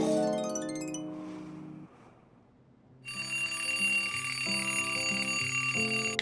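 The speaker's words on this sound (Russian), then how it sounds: "Опять будильник забыл выключить" An alarm clock rings with a bright, repeating metallic chime that fades into a short quiet gap. A louder electronic ringtone melody then plays on steadily to the end, with no talking.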